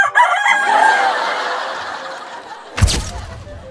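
A rooster crows loudly and close by in one long, drawn-out call, followed by a sharp squawk and clucks from other chickens nearby.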